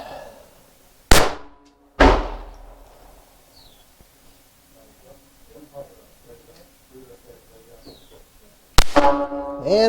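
A Glock G28 pistol fires at an outdoor shooting range: three loud, sharp reports, two close together near the start and one near the end, each with a ringing echo. Quiet background noises fill the gap between them.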